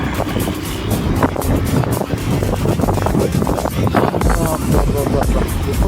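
Heavy road traffic in Hyderabad rumbles past a moving motorbike, with engine drone and strong wind buffeting the microphone, while a rider talks over the noise.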